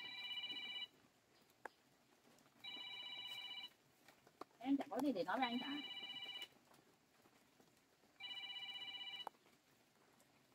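A telephone rings in repeated electronic bursts with pauses between them, fairly faint in the room, while someone speaks briefly between rings.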